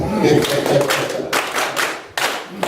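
An audience claps together for a brother at a church gathering, in the rhythmic style of Nigerian schools, with loud bursts of clapping broken by short pauses and voices mixed in.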